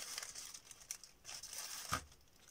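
A plastic zip bag holding a Begonia maculata cutting, handled with faint crinkling and rustling and a sharp snap as it closes, quiet and close.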